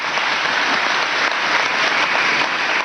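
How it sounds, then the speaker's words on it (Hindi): An audience applauds to welcome a Border Security Force officer at a Vividh Bharati golden jubilee event in Ramgarh, dense steady clapping that stays loud and even throughout with no voices over it. "आप सब तालियों से उनका स्वागत कीजिए"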